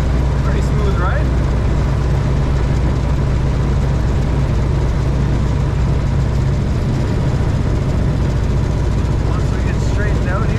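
A 1930 Ford Model A Tudor Sedan drives along a road, its steady low engine drone and road rumble continuous and fairly loud throughout, with faint voices mixed in.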